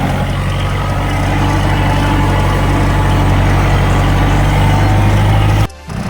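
A loaded tractor on a date farm runs loud and steady close by, its engine drone continuous and unbroken until it cuts off abruptly near the end.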